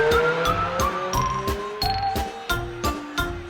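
Piano accompaniment for a cartoon-style clown car piece plays cartoonish car and tire-squeal effects, a string of sharp repeated accents about every third of a second, with sliding tones over sustained piano chords.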